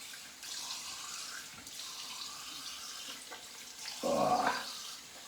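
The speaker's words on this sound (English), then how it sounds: "I'm gonna rinse for a while" Tap water runs steadily into a sink while someone rinses after a head shave, with a louder, closer splash of water near the end; no one speaks.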